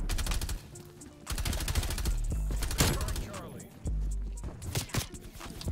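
Rapid bursts of gunfire in a Call of Duty match, some of it from a shotgun, with loud repeated shots and clattering impacts stacked over a continuous game backdrop, while someone talks over the action.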